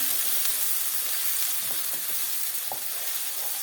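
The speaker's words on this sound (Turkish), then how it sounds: "Onu biraz kavuracağım böyle" Chopped onion sizzles and fries in a hot pan, a loud steady crackling hiss with occasional stirring scrapes.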